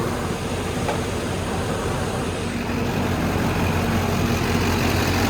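A Freightliner Cascadia semi truck, its batteries previously dead, idles on its own after a jump start, giving a steady low diesel rumble with broadband noise throughout and no one talking.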